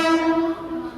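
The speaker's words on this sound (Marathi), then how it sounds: "फायनली बघा ट्रेन येते." A Harbour line commuter train pulls into a station, its horn sounding a sustained tonal blast that holds for about half a second and then fades, heard close and loud.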